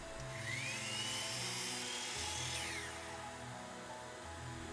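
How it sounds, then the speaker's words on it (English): A miter saw with a stop block cutting wooden slats one after another: a loud, close motor whine that rises in pitch, holds, then winds down, running continuously throughout. "I repurposed my circle jig scrap into a stop block for my miter saw so I can more easily batch cut all of my slats"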